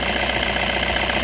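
A 2013 Toyota Hiace Commuter's D4D diesel engine idles steadily with a dense, even mechanical rumble and faint knocking texture, close by and with no talk.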